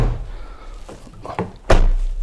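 The rear suicide door of an LEVC TX London taxi swings shut with a single solid, close slam near the end, after a couple of softer thunks.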